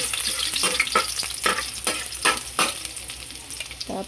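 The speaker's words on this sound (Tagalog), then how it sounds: "Okay, magisa na po tayo." Onion and tomato sauté in a hot pan with a steady, close sizzle, broken by several sharper bursts of stirring and scraping, with no talking.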